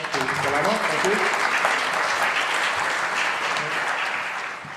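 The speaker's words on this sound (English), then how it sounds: "A big round of applause to Salama." An audience at a livestock production conference gives sustained applause, a steady, fairly loud wash of many hands clapping, with a voice talking faintly over it early on.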